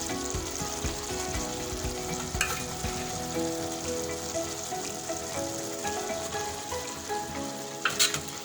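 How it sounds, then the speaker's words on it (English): Cooked rice is added to sautéed vegetables in a pan for masala rice and stirred, giving a steady close sizzle with occasional scraping strokes of the spoon. "So I'm just going to add my rice to this."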